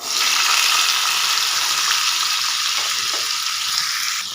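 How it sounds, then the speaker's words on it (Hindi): Cumin seeds frying in hot oil in a pan give a steady, close, loud sizzling hiss that continues without pause, with a few faint scrapes near the end and no voices. "ज़ीरा हमारा फ्राई हो चुका है।"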